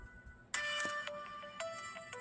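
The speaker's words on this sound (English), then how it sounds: "Your phone don't stop." A phone rings in short repeated bursts of bright electronic chimes, four rings in quick succession, fairly faint against a quiet room.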